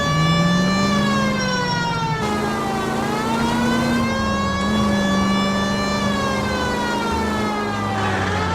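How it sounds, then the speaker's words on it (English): A 1940s LAPD police car siren in the video game L.A. Noire wails loud and close, rising and falling slowly over a low engine drone, with no one talking. "We have a siren."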